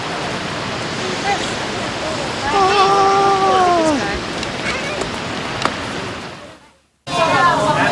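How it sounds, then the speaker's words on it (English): Steady rain hisses across surfaces in a broad wash of noise, with a brief voice over it and a short cut to silence near the end. "Oh, it's raining."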